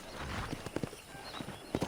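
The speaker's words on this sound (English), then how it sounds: "I picked out a fine horse for you." Horse hooves clip-clopping in the video game Red Dead Redemption on a ranch, a few irregular hoof strikes at close range over a faint background, with no talk.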